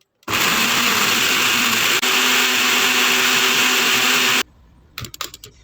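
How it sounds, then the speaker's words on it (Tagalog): A blender runs loud and steady for about four seconds, whirring through herbs and a glass of water for a kidney and liver cleanse drink, then shuts off, followed by a few light knocks and clatters. "I-blend lang hanggang madurog na lahat."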